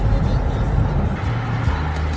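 A Jaguar car drives along a road in Dubai, its steady low engine and tyre rumble holding close and even throughout without pause.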